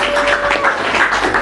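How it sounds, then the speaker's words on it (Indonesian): Classroom applause for a student named Vina: a steady, close patter of many hands clapping together, dense and continuous without a break. "boleh tepuk tangan dulu untuk Vina"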